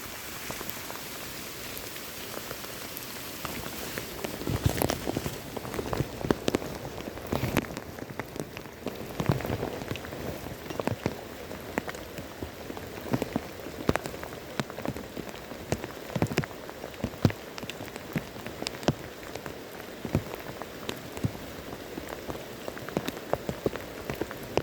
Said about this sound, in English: The rain that's falling is so heavy, it can actually hit my screen